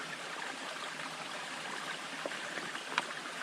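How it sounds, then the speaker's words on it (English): Water trickles through a filter from a bladder bag into a canteen on a hiking trail, a soft continuous stream with a few faint drips. "fill up your bladder bag, put your filter on, and then begin to filter the water"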